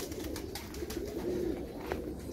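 Faint, low cooing of Russian breed pigeons, a soft rolling coo or two against quiet background noise.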